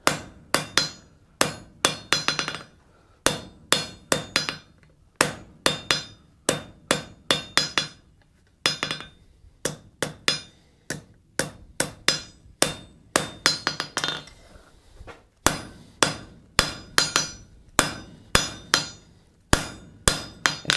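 Steady hammer blows on a steel Gothic door knocker, drawing out a taper over the anvil: dozens of sharp ringing metallic strikes in an even rhythm, close and loud, with brief pauses between runs and no talk.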